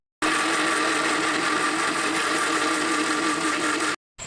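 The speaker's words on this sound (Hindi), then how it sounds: "मिक्सी में डाल दूँगी, मिक्सी के जार में" A mixer grinder runs steadily for about four seconds, blending mango shake in its jar with a loud, even whir, then stops abruptly and briefly restarts.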